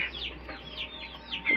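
Chickens cluck softly and repeatedly, quiet and somewhat distant, in a short run of pecking chatter with no voices over it.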